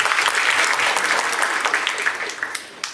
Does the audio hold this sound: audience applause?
yes